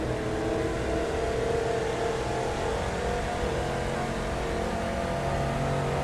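Sustained car engine roar in the racing game The Crew 2, a steady loud drone throughout with slight swells as another vehicle seems to go by, no talking.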